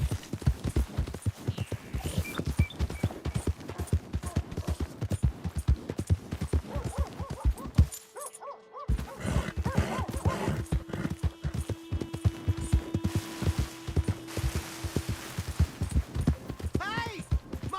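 Rapid horse hoofbeats gallop in a steady rhythm throughout in Red Dead Redemption 2, broken by a brief pause, with game sound effects and a tonal hum layered in.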